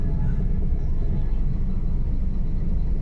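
Low, constant road-traffic rumble heard from inside a 2016 Toyota Wigo, a dense steady drone with no breaks or voices.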